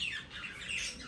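Pet parrots squawk inside a freshly cleaned cage, giving a steady run of harsh, close calls across a short stretch.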